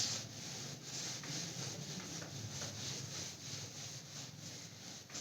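Writing is rubbed off a board in a classroom, a steady close scrubbing with rhythmic back-and-forth strokes that continues throughout.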